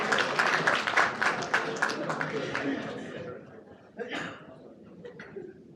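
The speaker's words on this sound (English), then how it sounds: "Everyone give her a round of applause for helping me out." An audience at a magic show breaks into a burst of loud clapping that fades after a few seconds, followed by a few scattered claps, with chatter and speech mixed in.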